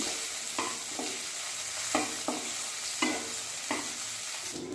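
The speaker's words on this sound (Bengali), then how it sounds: "এবার মাছের তেলটাও ভালো করে ভেজে নিচ্ছি" Katla fish fat frying in mustard oil in a wok, a soft continuous sizzle broken by about seven crisp stirring scrapes at an uneven pace.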